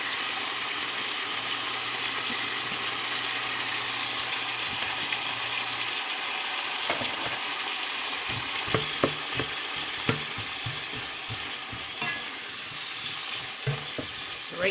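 Onions sizzle steadily in a frying pan with garlic scapes and pork, a soft continuous crackle broken later by sharp clicks and scrapes of a utensil stirring against the pan.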